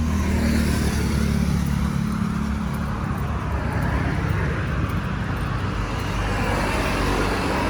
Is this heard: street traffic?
yes